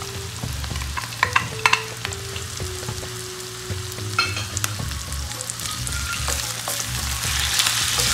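Chicken fillet sizzling and frying in a pan for a zucchini stir fry, a steady close crackle with sharp spatters and stirring clatters, low hum beneath and no talking.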